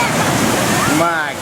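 Large ocean waves rolling in and breaking on a shore in Nordeste, Bahia, heard as a loud, continuous roar of surf with wind noise and a person talking over it.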